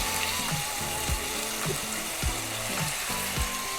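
A sirloin steak frying in a hot pan gives a steady, close sizzle with a regular soft knocking pulse underneath, repeating roughly every half second, with no one talking.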